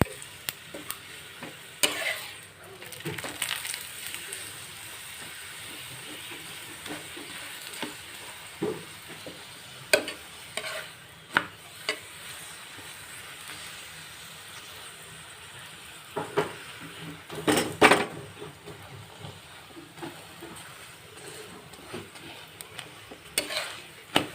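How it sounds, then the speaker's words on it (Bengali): Soft palm-fruit paratha fries in oil on a pan, a low steady sizzle close by, punctuated by scattered clatters and scrapes of a spatula against the metal. "এবার এর মধ্যে আমি উপর থেকে তেল দিয়ে দিলাম"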